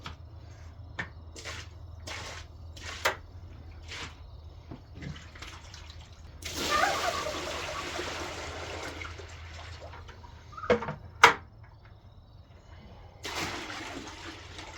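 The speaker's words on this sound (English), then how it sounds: "I'm just gonna dump this straight out. For the most part, it'll drain out." Water dumped out of a container and draining away outdoors, a broad splashing rush in the middle followed by trickling and scattered knocks and taps, moderately close.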